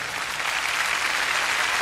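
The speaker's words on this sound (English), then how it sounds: "A round of applause for them." A large audience at a state productivity day merit award programme claps for award recipients, a dense, even roar of many hands sustained throughout a couple of seconds.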